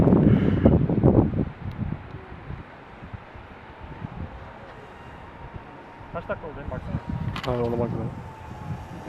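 Steady wind rushes and buffets across the whole stretch outdoors during a small FPV drone flight, with bursts of voices and laughter at the start and brief speech near the end.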